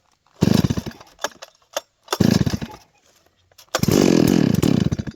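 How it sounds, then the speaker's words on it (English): Holzfforma G388 72cc chainsaw pulled and fired up in loud, close bursts: short sputtering catches, a brief run that dies, then the engine starts and roars steadily. "I'll just try and get this 388 started, 72cc."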